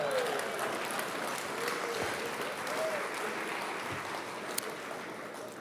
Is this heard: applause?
yes